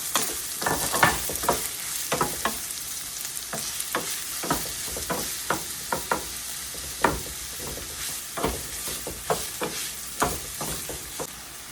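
Chopped onions and green chillies fry in oil in a pan, a steady sizzle broken by frequent sharp scrapes of a spoon stirring, close and moderately loud, with no talking.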